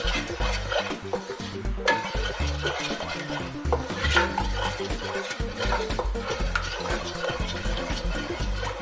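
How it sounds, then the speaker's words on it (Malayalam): A spoon stirs rice flour batter for idiyappam in a pan, giving continuous scraping and knocking strokes at close range with no pause. "എന്നിട്ട് നന്നായിട്ട് ഒന്ന് ഇളക്കി കൊടുക്കണം."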